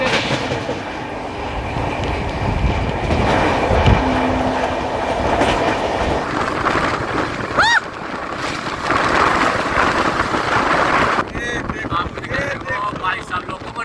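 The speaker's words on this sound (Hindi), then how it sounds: "चलिए आपको दिखाते हैं शानदार क्रॉसिंग अंडमान एक्सप्रेस" Andaman Express passing at a crossing, heard from aboard the Grand Trunk Express: a steady, loud rumble of wheels and wind with clickety-clack rail joints and a brief horn, while voices talk.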